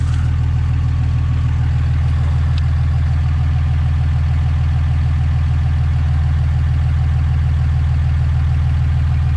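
An engine runs steadily through a 4-inch eBay muffler mounted in line on the exhaust, producing a loud, continuous low rumble like a vehicle idling, with no talking.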